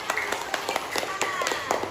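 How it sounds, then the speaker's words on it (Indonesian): A classroom of pupils claps hands in a quick, somewhat uneven burst, with children's voices mixed in over the clapping. "Ayo, tepuk tangan."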